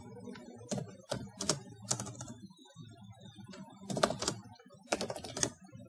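Code being typed on a computer keyboard, a close, crisp patter of key clicks in uneven bursts with short pauses between runs of keystrokes, quiet and without voices.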